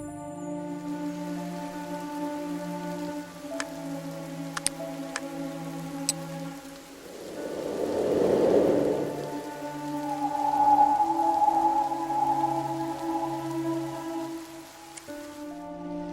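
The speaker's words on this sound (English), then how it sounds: "Has the rain stopped?" Soft, steady rain patters through a farm scene in a detective video game, swelling in the middle, with light ticks and clicks over a calm sustained music bed.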